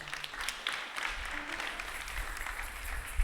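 A church congregation claps steadily in acclaim of the Lord, dense close applause that holds at an even level throughout, with a few faint voices under it.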